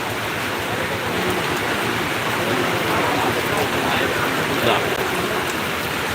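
Steady, dense hiss of rain falls without pause, loud and close, at night at a roadside tea stall in Puthanathani, Kerala, with no voices over it.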